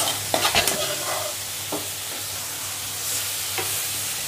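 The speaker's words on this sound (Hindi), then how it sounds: "अब इसमें डाल देते हैं भाजी। इस तरह हमको तड़का लगा लेना है" Leafy greens (bhaji) tossed into hot tempering and stir-fried in a pan, giving a loud, steady sizzle with a few stirring scrapes near the start, close and continuous without any talk.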